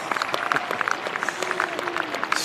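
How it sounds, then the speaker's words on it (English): Spectators at a Somerset versus Sussex county cricket match clap and cheer in a scattered burst of applause, moderately distant and fairly quiet. "And listen to the roar from the crowd."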